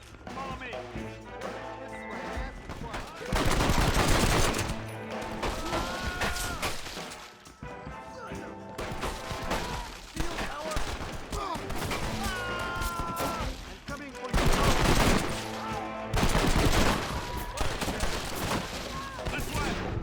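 A sustained Red Dead Redemption shootout fills the scene with heavy, repeated volleys of gunshots and impacts in waves, some bursts louder and closer, with characters shouting over the fire.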